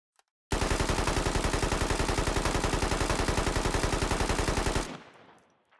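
An AK-74 rifle with an extended magazine fires one long, rapid automatic burst in the military video game Squad, loud and close, lasting roughly four seconds before cutting off into a short fading echo.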